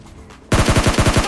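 Rapid automatic gunfire from PUBG Lite, starting abruptly after a quiet moment and continuing as a loud, close, evenly spaced burst of about a dozen shots.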